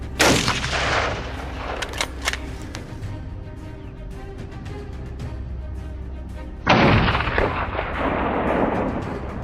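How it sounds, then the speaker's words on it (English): A hunting rifle fires a long-range shot at a wild boar. A loud, close report opens the clip and is followed by a rolling echo. About seven seconds later a second sharp blast decays slowly, with no talk. "I decided to take a chance with a long-range shot"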